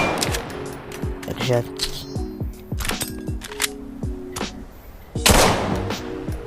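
A pistol in a VR gun video game fires several sharp, punchy shots in an irregular rhythm, with someone talking between and over the bursts.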